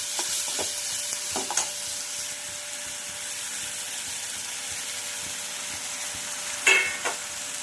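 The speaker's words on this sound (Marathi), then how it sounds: "यामध्ये आपण ओट्स घालून घेऊया आणि ते सुद्धा भाज्याबरोबर थोडे फ्राय करूया" Oats frying with vegetables in a pan for oats khichdi give a steady, soft sizzle, with a few brief scraping stirs near the start and a louder pair near the end.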